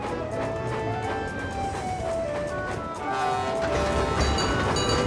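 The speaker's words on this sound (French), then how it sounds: "Vous connaissez tous Toby, c'est le petit tramway de Chicalor." A cartoon little steam tram rolling along rails, heard as a steady, continuous rumble of running gear with a faint tonal whistle-like hum and brief squeals over a dense mechanical backdrop, with no voices.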